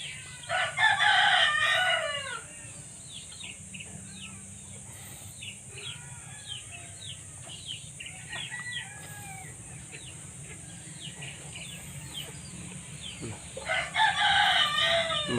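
Backyard roosters crow loudly at the start and end, with hens clucking and chattering steadily in between against a low background hum.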